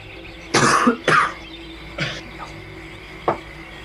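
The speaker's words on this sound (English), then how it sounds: "just kind of like coughing" A few harsh coughs close to the mic, two sharp ones in quick succession, then a softer cough and a brief throaty hack, over quiet background.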